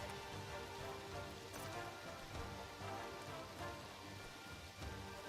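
Steady, dense rainfall in the swamp of the video game Outward, a continuous hiss of drops hitting surfaces at an even level throughout, with no voices over it.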